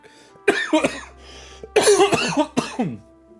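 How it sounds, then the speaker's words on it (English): Several harsh coughs in two bursts, close and loud, with short quiet gaps between them. "Oh, my cough is acting up."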